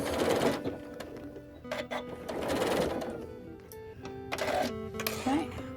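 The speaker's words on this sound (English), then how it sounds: "now you make sure you sew a very generous seam on the lining" A sewing machine stitches a seam on the lining of a tool bag, running in steady whirring bursts with brief pauses, close and fairly loud throughout.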